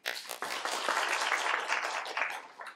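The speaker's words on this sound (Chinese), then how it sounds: "请大家热烈鼓掌。" An audience at a 2017 forum on artificial intelligence and cybersecurity applauds a speaker being introduced, with dense, steady clapping that swells briefly and then fades.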